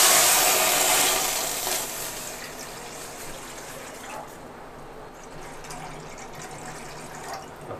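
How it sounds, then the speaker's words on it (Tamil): Running water pours steadily from a tap into a cooking pan, loud and close at first, then continuing more softly with a faint rushing hiss. "ஃபஸ்ட்டு நாம் ஒரு கடாயில் 2 டம்ளர் அளவுக்கு நான் தண்ணி எடுத்துக்கிறேன்"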